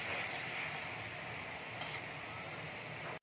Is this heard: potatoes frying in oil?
yes